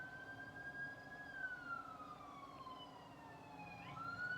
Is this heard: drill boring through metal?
no